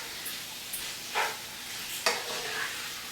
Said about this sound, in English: I'm going to turn the heat up because you quickly want to stir fry this